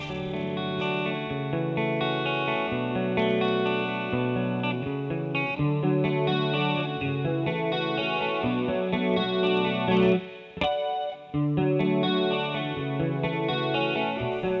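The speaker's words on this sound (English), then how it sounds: "this is the Luxe Polyphonic Detune pedal by Digitech" Electric guitar in standard tuning through a DigiTech Luxe polyphonic detune pedal into a Fender Deluxe amp, playing chords and melodic lines with a shimmering, doubled detune effect, sustained and continuous with a brief pause near the end.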